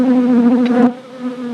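Honeybees buzz steadily and close around a brood frame holding larvae, a dense continuous drone that stays strong throughout with a brief brighter swell near the middle.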